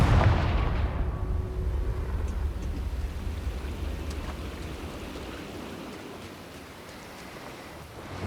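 The Confringo blasting spell detonates in Hogwarts Legacy as a loud, booming explosion at the start, followed by a long rumbling decay that slowly fades over several seconds, with no talking.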